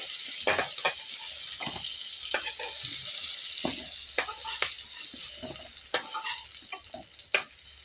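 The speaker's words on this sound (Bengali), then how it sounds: "বেগুনগুলোকে আমি মোটামুটি ভেজে নিয়েছি, আর একটু ভাজতে হবে।" Eggplant pieces fry in hot oil with a bright, continuous sizzle, broken by repeated scraping and clinking stirring strokes at an irregular pace, close up with no talk.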